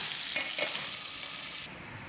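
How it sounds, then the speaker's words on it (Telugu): Tomatoes frying on a low flame for chutney make a soft, continuous hiss that drops away sharply near the end; no one speaks. "టమాటాలు కూడా సిమ్లో వేయించుకోవాలి"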